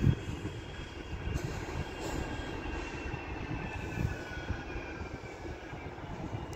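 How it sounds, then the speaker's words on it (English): A Manchester Metrolink tram arrives from Manchester Victoria at the Manchester Airport stop, a continuous rolling rumble with faint high wheel squeal, moderately close and steady, with no talk. "coming in is another Metrolink tram from"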